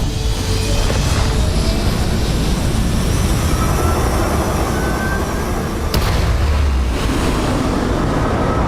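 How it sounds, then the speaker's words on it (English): Spacecraft thrusters fire in a video game as a loud, steady, broadband roar that holds throughout, with a brief surge partway through. "All thrusters firing."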